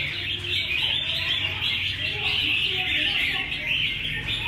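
A caged magpie robin sings quick, high chirps and whistled phrases, close and loud above a steady hiss of background noise.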